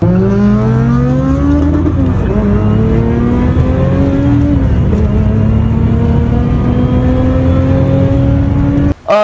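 Close, loud cabin drone of a Honda Brio running a naturally aspirated K24 engine under acceleration, pitch rising through gear after gear with brief drops at each shift, ending in a sudden cut.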